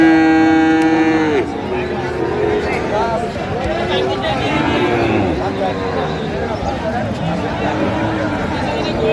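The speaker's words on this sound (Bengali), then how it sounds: "ষাঁড় বাচ্চা।" Friesian and crossbred bull calves at Raniganj cattle market, with occasional moos rising over a loud, continuous crowd of voices and bustle; people talk throughout.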